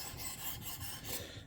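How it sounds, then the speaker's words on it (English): A Kunwu Pulsar knife is drawn across a sharpening stone in quick, faint rasping strokes, about four or five soft rhythmic scrapes close by with no voices. "I think this is the first one where I've really gone through the whole sharpening process"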